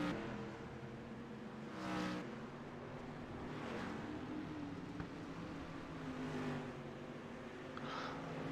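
Street stock race cars lapping Volusia Speedway in the iRacing simulator, a steady droning engine roar that swells a few times as cars pass, continuous and fairly close with no talking.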